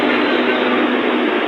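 Inside a train arriving at Panvel railway station, a loud steady rumble and broadband roar of the moving carriage continues without a break.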